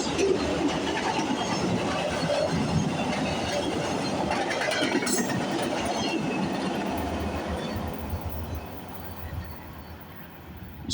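A VIA Rail passenger train of six coaches passes close by on the CN Halton Subdivision, a loud continuous rumble and rush of wheels on track that eases gradually toward the end.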